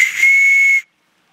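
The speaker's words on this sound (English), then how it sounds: "Little whistle." A small whistle gives one shrill, steady blast up close, lasting under a second before stopping cleanly into silence.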